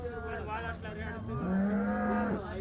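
Cows moo loudly nearby at the Sunday cattle market in Chintamani, one long drawn-out low call overlapping another, with a busy murmur of background noise.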